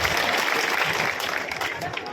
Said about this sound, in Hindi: इनके लिए जोरदार ताली बजाओ भाई अर्जुन जी दोस्त के लिए।